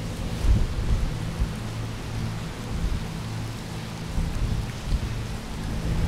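Heavy, flooding downpour around a tent while walking across Japan, a continuous dense wash of rain with low rumbling undertones that suggest thunder, steady throughout and without voices.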